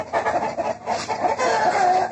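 A sick chicken with a snoring, rattling respiratory condition clucks continuously at close range in a rural setting, its calls overlapping with other nearby fowl and no talk.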